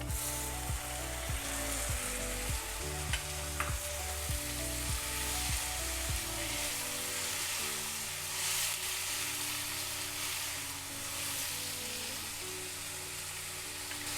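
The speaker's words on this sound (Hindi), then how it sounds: "थोड़ा सा अदरक लहसुन को भी फ्राई होने देते हैं।" Ginger, garlic and tomatoes sizzle steadily in a hot pan while a rhythmic low thudding chops along in the first half, then the frying continues alone.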